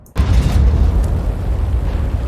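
A T92 HMC self-propelled artillery gun in World of Tanks fires one shot, a sudden loud blast after a brief hush, followed by a heavy, lingering low rumble that stays strong to the end.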